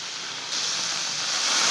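Meat sears in a hot pan as the heat is turned up, a loud, dense, steady sizzle that swells in intensity halfway through and continues hissing without any voice over it.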